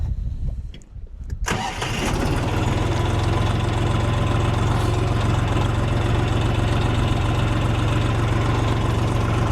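A DongFeng 244 mini tractor engine cranks briefly and fires, then settles into a loud, steady diesel idle with a rapid, even knock close by; no one speaks.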